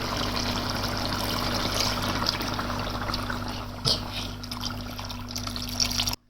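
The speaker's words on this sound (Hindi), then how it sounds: "अब ये जो यखनी है ये सारी आप इसके अंदर ऐड कर देंगे।" Homemade chicken stock (yakhni) being poured into a pot of desi chicken shorba, giving a steady, continuous close-up rush of liquid with a soft splash near the end.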